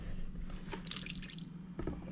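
Buttermilk drips and trickles from a lump of homemade butter as it is squeezed by hand, a close, soft spatter of small wet drops in quick bursts.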